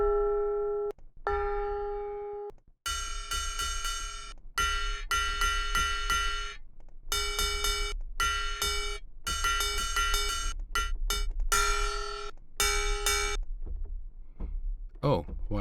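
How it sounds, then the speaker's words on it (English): A small gong synthesizer preset in a Rob Papen synth is played as a series of bright metallic bell-like hits, some short and clipped, others ringing out, with quick repeated strikes in the middle and brief gaps between phrases. "Small gong."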